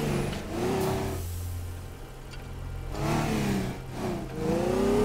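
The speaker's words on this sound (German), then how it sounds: "Weg mit dem Auto hier." A car engine in the video game Teardown revs up hard in repeated surges, climbing in pitch with each burst and dropping back to a lower rumble between them, loud and close.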